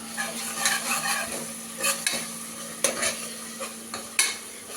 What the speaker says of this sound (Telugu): కావాలని ఇప్పుడు నేను వీడియో ఎత్తున్నాని చెంచా తీసుకొని కలుపుతుండు